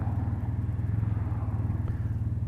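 A Honda Crosstourer DCT 1,237cc motorcycle idles with a steady, low, gentle burble, a continuous rhythmic engine throb at moderate level with no talking.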